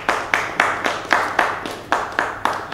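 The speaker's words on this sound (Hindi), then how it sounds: "तालियां" Steady, evenly spaced handclaps, about nine crisp claps in a regular beat, close and fairly loud, from a small group celebrating a parents' wedding anniversary at a family gathering.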